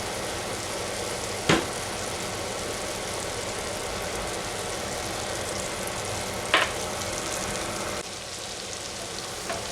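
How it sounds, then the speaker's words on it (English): Butter melts in a pan to start a roux, giving a steady, even sizzle that runs throughout, with two brief sharp clicks partway through and a slight drop in level near the end. "Now we're going to make our roux. Add the butter and melt that."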